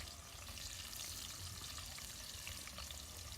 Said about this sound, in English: You fry the onion. Wow. Yes. Fry the onion first.